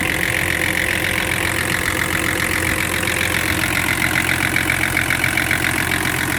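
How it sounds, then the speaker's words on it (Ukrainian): A BMW E34 525tds M51 diesel engine idles close by with a steady, dense clatter and rhythmic knocking, unchanging throughout with no talking. "Двигун М51."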